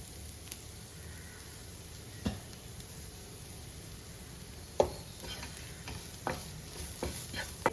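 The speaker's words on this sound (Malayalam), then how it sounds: "നമുക്കൊന്ന് വഴറ്റി കൊടുക്കാം" Masala gravy for Kerala irachi pathiri stirred in a pan, giving a soft steady sizzle with occasional sharp clicks and taps of a spoon against the pan, faint and close with no talking.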